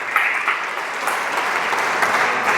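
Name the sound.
congregation applauding in church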